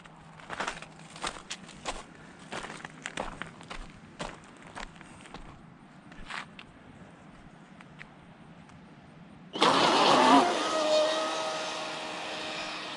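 A Zippkits JAE 33FE V2 RC rigger boat on 6S power suddenly roars into a loud, steady high-pitched run, preceded by scattered clicks and handling noise.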